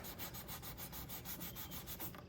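A 180 grit foam sanding pad rubbed quickly back and forth over small spots on a vintage faux bamboo wooden dresser, giving a fast, even rhythm of soft scratchy strokes up close.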